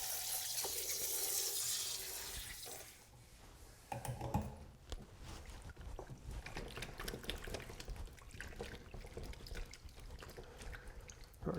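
Running water from a hand sprayer rinses a wood duck skin, a loud hiss at first that settles into softer splashing and trickling for the rest of the clip.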